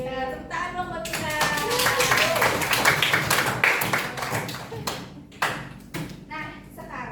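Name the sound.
clapping hands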